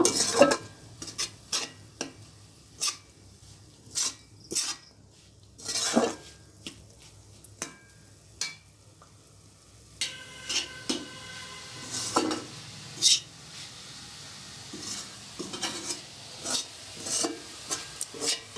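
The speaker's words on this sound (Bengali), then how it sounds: "আমার নারিকেলটা পুর তৈরি করা হচ্ছে কড়াই হয়ে গেছে আঠা আঠা হয়ে গেছে" Coconut filling for puli pitha stirred in a wok, with repeated sharp scrapes and clanks of the utensil against the pan in an uneven rhythm over a faint sizzle, close and clear.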